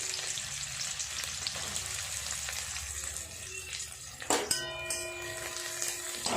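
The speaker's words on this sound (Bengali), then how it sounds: "তেল গরম হয়ে গেছে, বেরেস্তাটা করে নেব আগে।" Onions frying in hot oil in a kadai for biryani birista, a steady broadband sizzle with faint stirring clatter and a sharp tap near the end, heard close and alone.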